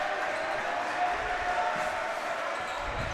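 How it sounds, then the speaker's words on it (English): A gym crowd at a boys varsity high school basketball game between Deerfield and Glenbrook North roars in a steady, dense wash of cheering and noise that holds at an even, loud level throughout, with no single voice standing out. "Crowd's starting to come to life."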